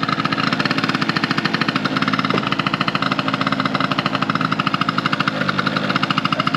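A Piaggio NRG Stage6 70cc scooter engine idles while warming up, a steady rapid two-stroke chatter that stays close and loud with an even pulsing rhythm throughout.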